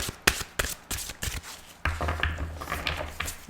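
Tarot cards being shuffled by hand, a series of crisp riffles and taps coming in uneven bursts, close and fairly quiet.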